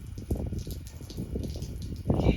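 Warm water splashes and gushes from a hose over a mustang during its first bath outdoors in the wind, an uneven close-up spray with bursts of louder splashing.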